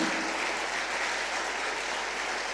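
A church congregation applauding for Jesus Christ during a sermon, brief continuous clapping from many hands, fairly distant and even in level.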